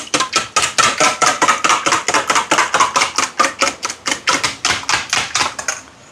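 Three eggs with a little salt being beaten by hand in a bowl, a fast, even run of sharp taps from whisk or fork against the bowl, about four strokes a second, close and alone with no talking.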